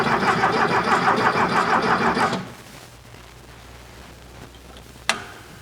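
The air-cooled engine of a 1973 VW Thing, parked for decades, cranks over on the starter with ignition off during a compression test: a loud, rhythmic churning for about two seconds, then stopping, followed by quiet and one sharp click.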